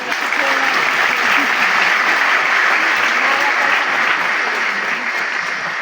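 A graduation audience at the PICC building applauds its parents, dense sustained clapping from a large crowd filling the hall evenly for several seconds.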